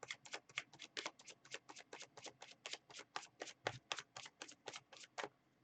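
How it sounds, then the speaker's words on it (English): Tarot cards are shuffled in a steady run of about twenty quick, evenly spaced riffling bursts, close and fairly loud, with no talking over them. "so I'm going to shuffle again."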